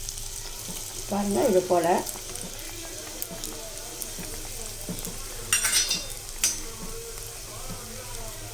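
Kandarappam batter ladled into hot oil and frying, with a soft steady sizzle and brief louder bursts as the batter hits the oil, while a voice speaks over it.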